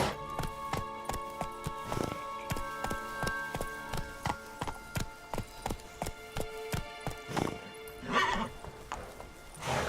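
Geralt's horse Roach from Witcher 3 galloping in a steady run of sharp hoof clip-clops, with a brief whinny near the end over game music.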